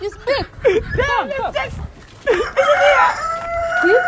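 A chicken crows loudly and close by, a drawn-out cock-a-doodle-doo late in the clip, while people talk over and around it earlier.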